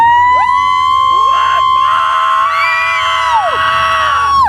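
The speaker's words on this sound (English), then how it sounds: "Can we get a big, massive Wildfire cheer?" A festival crowd at Wildfire 2015 cheers loudly, with high whoops and shouts rising and falling in a continuous, close wash of voices.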